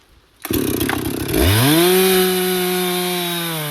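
A chainsaw bites into a hard maple tree: a short idle, then the engine revs up sharply to a loud, sustained high-pitched whine as it cuts, close by with no voices.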